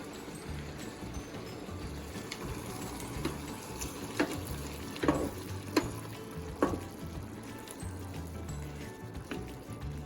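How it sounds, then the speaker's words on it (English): Onion chutney with red wine vinegar and bay leaves simmering on low heat in a pan, a steady soft bubbling hiss with a few sharper pops and clicks scattered through, no voices. "And then we'll just let it simmer on low heat this time."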